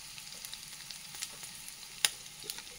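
Garlic paste and green chillies sizzle in hot oil, a faint steady crackle with soft pops and one sharper spatter near the end.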